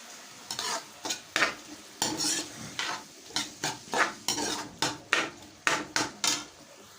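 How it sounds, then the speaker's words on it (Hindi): Sliced onions in oil in a cooking pan being stirred with a spoon for a ginger chicken curry, giving repeated close scraping strokes in a steady rhythm with faint sizzling underneath. "इसको हम इस तरीके से चम्मच चलाते रहेंगे।"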